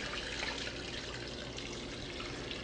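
Water pours steadily into a stockpot of chicken bones and skin with celery, carrot and onion, a continuous close splashing rush with no voices.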